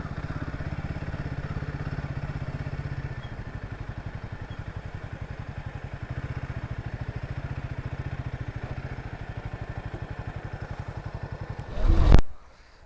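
On a coastal road between Malvan and Ratnagiri, a vehicle rolls in neutral with its engine putting steadily and close, a constant rhythmic drone that ends in a brief louder rumble.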